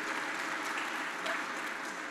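Church congregation applauding during a Mass for the Solemnity of the Epiphany, a soft, even patter of clapping hands heard at a distance, steady throughout without voices.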